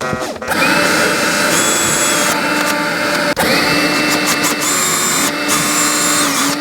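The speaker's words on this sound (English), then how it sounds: "now I'm using a 6mm masonry drill bit in my drill" A power drill with a 6mm masonry bit grinds steadily into masonry, loud and close, with a brief pause midway before drilling resumes.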